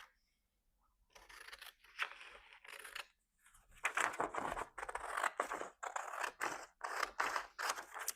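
Scissors snip through jelly-printed paper in a quiet room, a series of close, crisp cuts in uneven bursts, with brief pauses between strokes.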